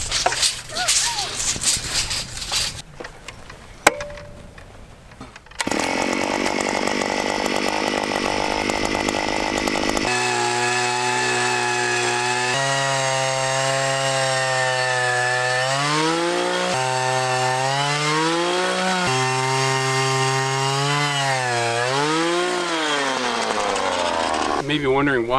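A gas-powered post hole auger digs fence post holes in soil free of tree roots on a cattle farm. After some rattling and handling noise, the engine kicks in close and loud, revving up and down in repeated rising and falling surges.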